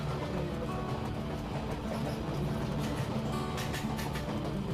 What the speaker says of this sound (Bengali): এরপর ট্রেন আমাদের পৌঁছে গেছে বালিগঞ্জ জংশনে।